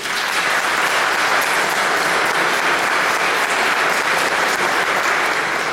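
A church congregation applauds parish volunteer Pierre Bellegarde, dense steady clapping filling the room without a break from start to finish.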